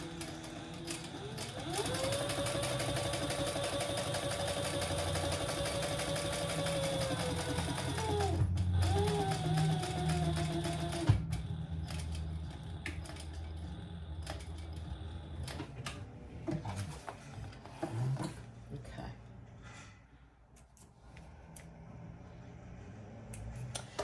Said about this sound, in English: So let's top stitch between those 2 marks